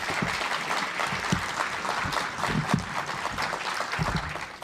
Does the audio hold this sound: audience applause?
yes